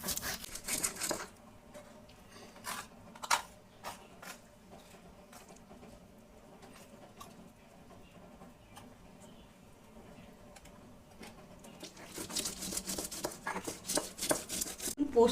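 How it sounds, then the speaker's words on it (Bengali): Poppy seeds ground on a stone shil, with rhythmic bursts of gritty scraping strokes at the start and a denser run of rubbing toward the end, quieter between. "শিলে ভালো খেতে ভালো লাগবে, তার জন্যে শিলে বেটে দিলাম"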